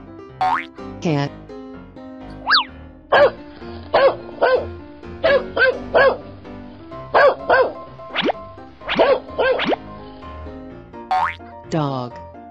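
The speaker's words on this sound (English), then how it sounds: "Dog." A playful, cartoon-style dog barks repeatedly in a children's animal painting setting, short yaps in quick pairs and clusters over light background music, loud and near.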